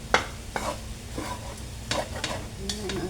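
Basmati fried rice seasoned with a little fish sauce is stir-fried in a hot pan. Quick scraping tosses repeat irregularly over a soft sizzle, close and fairly quiet.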